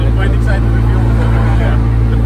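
A Datsun 1400 pickup engine with a straight pipe exhaust, a loud, steady low rumble and drone heard up close, with voices talking over it.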